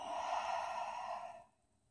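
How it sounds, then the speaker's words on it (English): A single soft, steady Ujjayi exhale through the mouth during a yoga breathing exercise, breathy and close, lasting about a second and a half before fading into quiet. "Today we're going to do Ujjayi, in through the nose"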